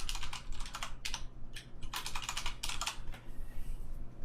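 A password typed on a computer keyboard, heard as close, crisp clusters of key clicks in quick irregular bursts with short pauses between them, no talking.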